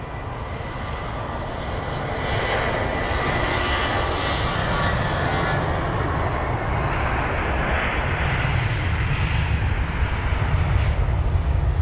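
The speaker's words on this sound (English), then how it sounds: "The next departure, finally on the move. The BA 320-200 to Geneva." A British Airways Airbus A320-200 departing London Heathrow for Geneva, a continuous broad jet roar that rises after the first couple of seconds and holds steady and fairly loud, with no talk.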